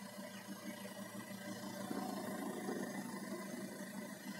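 An air conditioner unit keeps running and vibrating after its compressor shuts off, a low, steady hum with a faint mechanical rattle, close by and fairly quiet.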